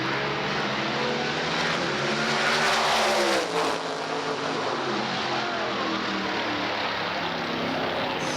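A supercharged 1969 Chevy Nova and a carbureted Hemi-powered 2009 Cobalt launch in a drag race at Great Lakes Dragaway, a loud roaring engine blast that peaks early, then sweeps down in pitch as the cars pull away and fade.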